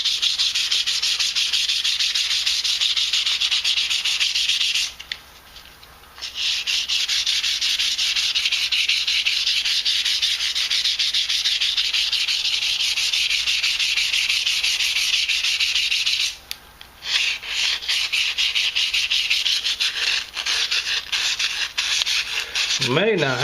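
Steady abrasive sanding strokes on custom knife handle scales for an Ontario Rat 5, rubbing continuously, close and loud, with two brief pauses where the scraping stops before resuming.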